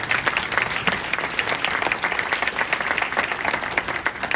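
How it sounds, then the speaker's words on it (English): Audience applause at a conference honoring a speaker, a dense, steady wash of many hands clapping continuously at moderate loudness for several seconds. "One more applause again for Dr. Sulamoyo."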